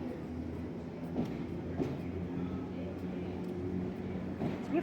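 A train arrives at a station, rumbling steadily nearby with a low mechanical drone, a few soft clunks and squeals, and no voices.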